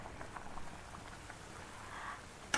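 About two tablespoons of butter sizzle in dark, well-burnt sugar caramel, a faint steady crackling and bubbling hiss that resembles light rain, with a sharper spatter at the very end and no talking.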